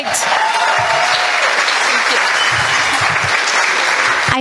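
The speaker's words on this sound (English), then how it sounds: "Let's give a great round of applause to the great senator from the great 18th" An audience applauds a state senator at a State of the District event, sustained loud clapping throughout, with a few whoops and a faint voice mixed into the crowd.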